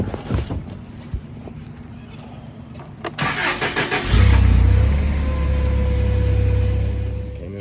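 A warehouse forklift engine turns over after a few seconds of background clatter, then settles into a loud, steady running drone close by.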